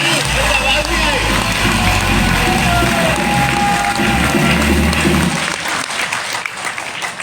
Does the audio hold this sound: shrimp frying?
no